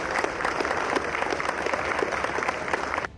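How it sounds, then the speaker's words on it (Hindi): Laborers clap together in thanks after a yoga session, a steady burst of group applause with dense, overlapping claps that cuts off abruptly at the end. "मजदूरों ने भी तालियां बजाकर उन्हें योग सिखाने पर धन्यवाद दिया।"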